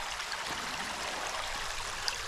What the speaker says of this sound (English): So here's a little tributary to Deer Creek.